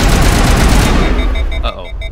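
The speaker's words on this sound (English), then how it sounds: "Suppressing fire!" Heavy suppressing gunfire in Mass Effect 1 Legendary Edition rattles loudly and densely at first, then thins into scattered echoing shots and fades out.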